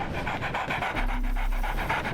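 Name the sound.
puppy panting in the video game Sherlock Holmes The Awakened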